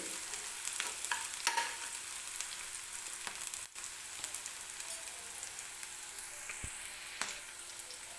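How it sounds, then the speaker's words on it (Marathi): Onion fries in oil until soft with a close, even, continuous sizzle, broken only by a few faint clicks of a utensil against the pan. "कांदा छान मऊ होईपर्यंत भाजायचा आहे आपल्याला"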